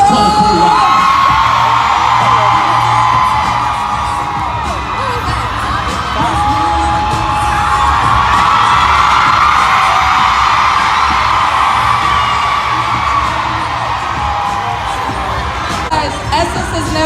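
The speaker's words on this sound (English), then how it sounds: "Look at how the crowd went crazy for Tommy" A large festival crowd at Essence Fest in New Orleans roars and whoops continuously for a performer named Tommy, a dense, loud wall of cheering and yelling that swells and holds for the whole stretch.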